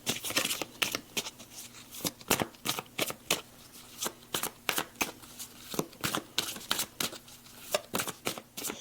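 Tarot cards are shuffled again and again, giving sharp riffling bursts in an uneven, steady rhythm, close and clear with no talking.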